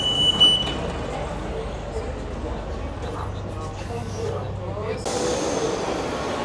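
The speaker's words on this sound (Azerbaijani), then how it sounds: "Metro gəldi." A metro train pulling into an underground station in Rome, a low steady rumble with hiss and a rising tone as it arrives, faint talk nearby.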